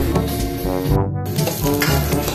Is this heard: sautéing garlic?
yes